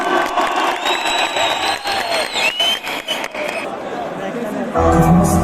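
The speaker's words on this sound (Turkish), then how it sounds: "büyük bir alkış alabilir miyiz arkadaşlar?" A concert crowd in Erzurum applauds and cheers loudly, with a voice talking over it and a surge of noise near the end.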